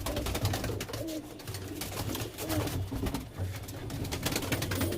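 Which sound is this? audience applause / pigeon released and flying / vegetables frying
pigeon released and flying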